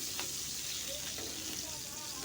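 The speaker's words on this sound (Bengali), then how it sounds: "মাছগুলোকে দোনো পিঠ ভাজার পরে আমি উঠিয়ে নিচ্ছি।" Koral fish frying in hot oil in a home kitchen, a steady close sizzle and crackle running evenly throughout, with no talking.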